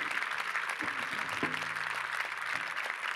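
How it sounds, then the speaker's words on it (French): Audience applause after two speakers, Arnaud Montebourg and Pierre Ippolito, are introduced at a French face-to-face event; steady clapping fills the clip with a faint voice briefly underneath. "Je vous demande d'applaudir M. Arnaud Montebourg et M. Pierre Hippolito"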